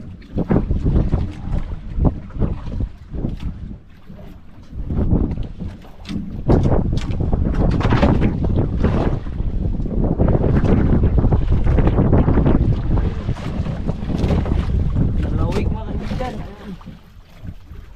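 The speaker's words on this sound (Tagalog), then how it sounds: "Yung hangin mga kaibigan ng amihan." Strong gusting northeast monsoon wind buffets the microphone in loud rumbling bursts, with water and boat noise mixed in and a voice briefly heard.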